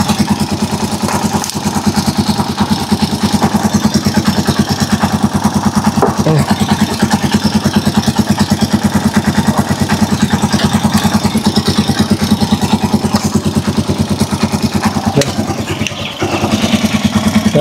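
A motorcycle engine idles steadily with a rapid, even chug and light mechanical clatter, loud and close throughout.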